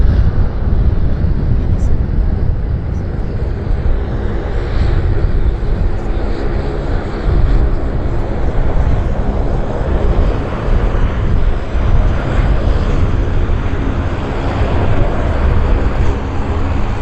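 A Boeing 787 Dreamliner roars at Vancouver Airport in strong winds, a loud, sustained engine rumble with deep low-end noise throughout, heard steadily without any clear voices.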